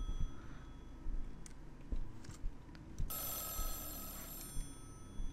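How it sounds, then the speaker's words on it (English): Telephone ringing inside a house in the horror game Mothered, faint and distant at first, then a bright, sustained electronic ring sounding clearly for the final two seconds over quiet ambience. "the phone is ringing."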